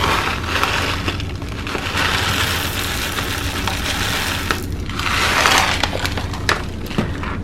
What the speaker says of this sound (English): you just want to make sure to give your wax a good stir